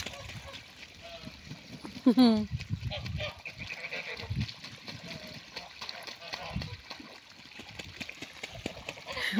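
Ducks and geese on a farmyard pond splash and gurgle in the water, with honks and quacks rising over a steady wet churning; a voice talks nearby.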